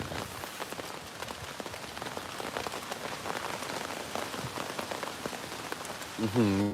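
Light drizzle patters steadily on a surface throughout, a soft continuous hiss of fine droplets, with a brief tonal voice-like sound rising near the very end.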